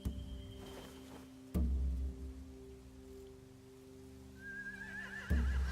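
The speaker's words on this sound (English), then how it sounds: "They have horses." Horses in a video game whinny and snort over a low, steady hum, with heavy thuds and a rising, wavering neigh near the end.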